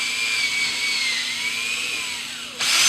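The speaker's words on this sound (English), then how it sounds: "I drill down straight through it." A power drill whines steadily at high pitch as it bores a pilot hole through a wood board, the tone dipping slightly under load, then a brief pause before it surges again.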